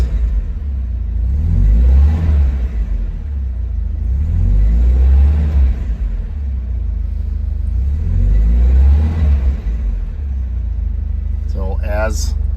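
A 1973 Alfa Romeo Spider engine idling after a cold start, with deep low rumble swelling in several slow surges as the throttle is blipped, close and loud, ending with a brief voice.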